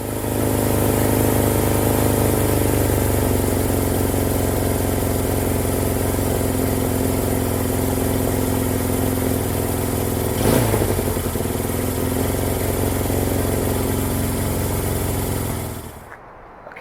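A Honda CB200 motorcycle engine idles steadily after its carburetors are synced, a loud, close, even putter holding for about sixteen seconds before cutting off abruptly near the end.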